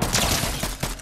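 Rapid gunfire in the Fortnite battle royale game, a quick volley of loud, close shots in a fast irregular rhythm.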